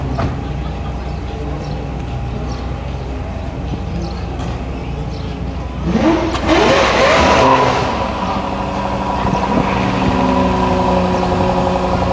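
A supercharged Jaguar F-Type SVR idles with a steady rumble, then its exhaust rips into a loud rising rev that eases back to a throbbing idle; a voice can be heard underneath.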